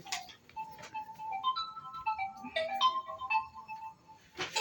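A mobile phone ringtone plays alone, a bright electronic melody of stepping tones repeating at close range and moderate volume.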